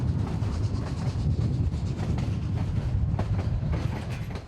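The Cumbres and Toltec historic railroad train rolls steadily along its tracks, a continuous loud rumble with rhythmic clickety-clack of the wheels and no talk.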